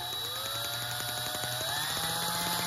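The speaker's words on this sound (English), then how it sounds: "So basically I'm just turning the distributor with an electric drill." Electric drill spinning the distributor of a genuine Delco EST ignition system under test, a steady whirring motor hum with faint rapid ticking from the sparks, close and continuous.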